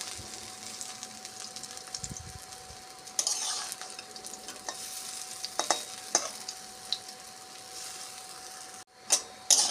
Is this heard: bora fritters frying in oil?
yes